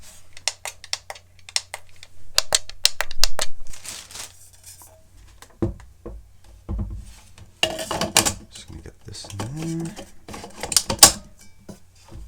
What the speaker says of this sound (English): Buttons have a nice click to them.